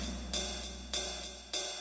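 Sprunki game character Kluker, a silver robot with a cymbal on his head, plays a quiet looping beat with three sharp cymbal-like hits spaced about every 0.6 seconds over a steady low hum.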